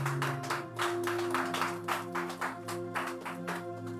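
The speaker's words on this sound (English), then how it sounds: "I'd like to give the Lord a hand clap for young people serving the Lord." A worship-service congregation claps along steadily in rhythm, loud and close, with sustained organ or keyboard chords held underneath throughout.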